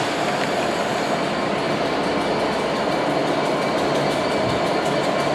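Train rolling along the railway with a dense, steady roar of wheels on track and faint rhythmic clatter, close and constant throughout with no voices.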